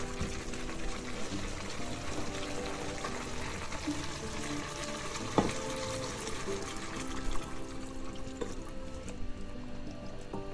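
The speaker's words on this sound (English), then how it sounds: "Add enough water to cover the meat." Water being poured into a pot of seasoned oxtail with ketchup for jambalaya, a continuous splashing, gurgling pour that runs steadily throughout at moderate loudness.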